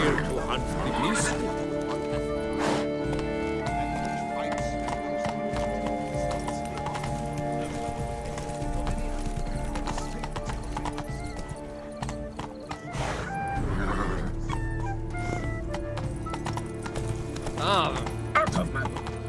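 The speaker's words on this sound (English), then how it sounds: "Be better off on horseback. Giddy up." Horse hooves gallop in The Witcher 3: Blood and Wine, a steady clip-clop under a thick bed of game music and ambience, joined by a few louder bursts, including what seems to be a neigh near the middle.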